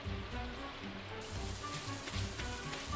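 Rain falls on a Stardew Valley farm as a soft, continuous hiss of patter, faint and steady, with quiet low tones underneath.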